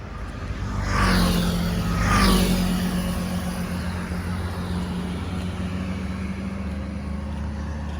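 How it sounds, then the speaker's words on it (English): Cars drive past on a busy road near the scene of a rear-end accident, with two vehicles swishing by in close succession before a steady traffic rumble settles in. No voices are heard. "It's just too much traffic here to do this safely."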